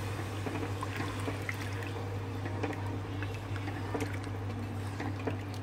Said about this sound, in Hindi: अब मैं पानी डालने लगी हुई